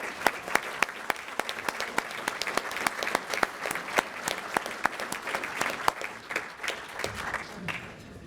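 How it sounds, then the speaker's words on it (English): Audience applause at a Rotary scholars luncheon for a high school brass ensemble: steady, dense clapping from a seated crowd, moderately near, tapering off at the end with a little murmuring. "One more round of applause, please, for the Hanford High School Brass Ensemble."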